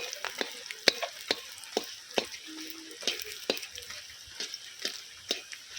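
Fish roe fries in oil while a spatula turns it over and breaks it up, producing frequent sharp scrapes and taps over a soft sizzle, close by.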